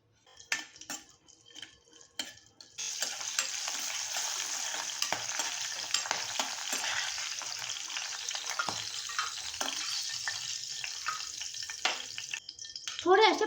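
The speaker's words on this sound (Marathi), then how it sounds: "आता ना ह्याच्यामध्ये आपण थोडेसे काजू आणि थोडेसे मटार छान असं परतून घेऊया." Cashews and green peas fry in a spoonful of hot oil with a continuous loud sizzle, broken by a few clinks and scrapes of a spoon stirring in the pan, close up with no talk.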